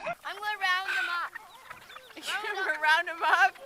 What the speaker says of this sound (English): Gus, don't kick the chickens.